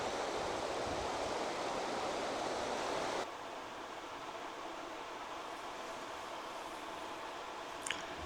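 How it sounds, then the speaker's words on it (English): A river runs steadily beside a Scottish van-life campsite, a broad continuous rush that drops slightly in level partway through, with no voices over it. "listen to that running water from the river for hours"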